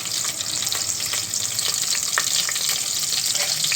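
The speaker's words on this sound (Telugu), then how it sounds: "వేసుకొని ఇలా ఫ్రై చేసుకొని పక్కన పెట్టుకోవాలి." Whole spices for chicken Hyderabadi biryani, including green chillies, garam masala, shahjeera, cloves and cardamom, fry loudly in a pan, a dense, steady close sizzle with crackling spits throughout and no voices.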